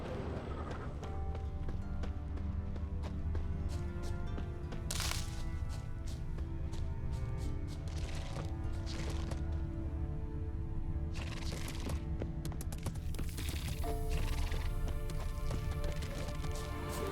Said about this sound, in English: heavy wheels. A merchant's wagon.